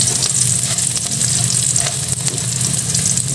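Garlic and onion fry in olive oil in a pan with a steady, dense sizzle and crackle that stays close and continuous throughout, with no talking.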